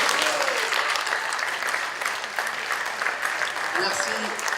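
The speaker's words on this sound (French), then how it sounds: "Je crois qu'on peut applaudir vraiment Valérie" Sustained audience applause at a Fête de l'Humanité debate, a dense, even wash of many hands clapping for several seconds with voices mixed in.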